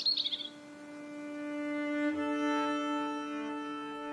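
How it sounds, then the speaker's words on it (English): A robin sings a brief, high autumn phrase on Hadrian's Wall, heard right at the start, then gives way to sustained soft musical tones in a quiet mix. "recorded the autumn song of a robin singing on Hadrian's Wall"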